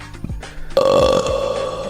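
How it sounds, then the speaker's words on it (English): A loud, sustained burp erupts partway through and rumbles on for about a second, preceded by quieter throat sounds and faint room noise. "Prepare to burp."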